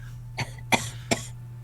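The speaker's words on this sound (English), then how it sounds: "She got a cough." Three short, sharp coughs spaced about a third of a second apart, close by, over a steady low electrical hum.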